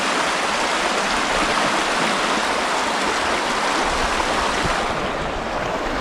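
Narew river water flows in a steady, broadband rush, close and continuous with no talking.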